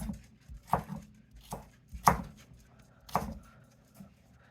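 A knife chops chicken or vegetables on a cutting board in a home kitchen while fajitas are being made, giving several sharp, close thuds at an uneven steady pace with no talking.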